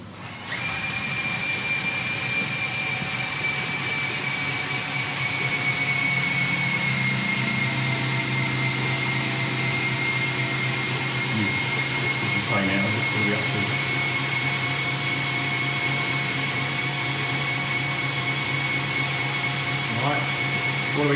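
The oil pump primes on a Metro 6R4 rally car with the ignition on, a continuous loud electric whirring drone with a steady high whine that runs unchanged throughout.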